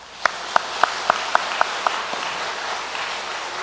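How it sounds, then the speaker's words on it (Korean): A church congregation applauds during a service. About seven sharp, evenly spaced claps stand out over a softer wash of scattered clapping, and the sound fades to a lighter patter afterward. "우리 한번 박수로 그분들 격려합시다"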